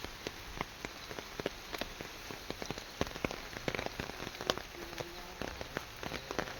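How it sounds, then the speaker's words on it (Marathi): Steady rain patters on a surface, with many sharp scattered drops tapping close by over a soft continuous hiss. "पाऊस"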